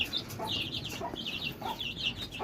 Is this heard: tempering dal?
no